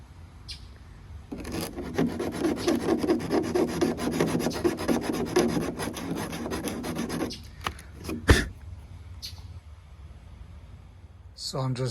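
Rotary tool with a carbide spearhead bit grinding away material from inside an RC car body, a Bugatti Bolide shell for an ARRMA Felony, heard as a close, continuous rasping for several seconds followed by a few short bursts.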